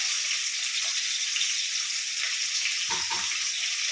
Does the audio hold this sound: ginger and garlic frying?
yes